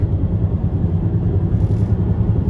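Steady low rumble of a Dodge Charger driving with a worn wheel hub, continuous droning road and wheel noise throughout; no voices.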